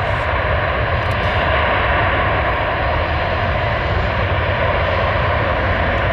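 A jet airliner with IAE V2500 engines close to the runway produces a loud, steady broadband engine roar with a constant low rumble, heard alone.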